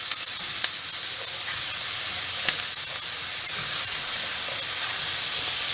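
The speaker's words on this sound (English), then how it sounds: "we're only going to cook with the onions in it for about 2 to 3 minutes" Onion sizzling in a pan, a steady bright frying hiss that runs throughout at even loudness, with a couple of faint pops; no talking.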